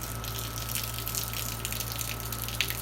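Water pours out of an RV holding container, a steady rushing gush that runs without a break and stays moderately loud throughout.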